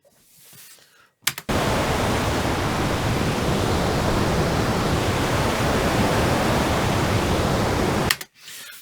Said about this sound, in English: So basically it sounds like white or pink noise.